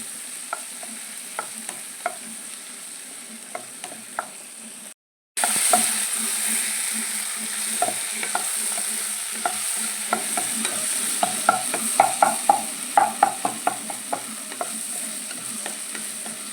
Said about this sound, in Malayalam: ചെറിയ തീയിലിട്ടിട്ട് നന്നായിട്ട് വേവിച്ചെടുക്കാം